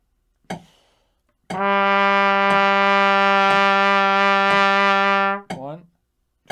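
A trumpet sustains one long low A whole note, steady and loud for about four seconds, preceded and followed by short clicks and a brief breath-like burst.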